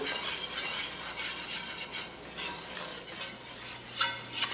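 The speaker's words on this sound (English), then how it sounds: "I'm going to continue to whisk this up" A whisk scrapes steadily through a darkening roux in a pot for Creole shrimp stew, a continuous soft sizzle with repeated scraping strokes and faint metal clinks, close and without talk.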